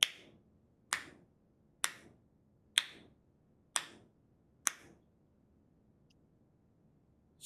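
Six crisp finger snaps ring out close and clear at an even, unhurried pace, each a sharp dry click that fades quickly into near silence.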